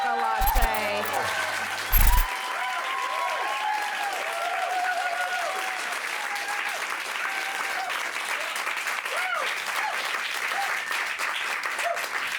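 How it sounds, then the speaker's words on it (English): Audience applause at a comedy magic show rolls on continuously, a broad sustained clapping from a sizeable crowd, with brief voices and laughter mixed in near the start. "Keep clapping"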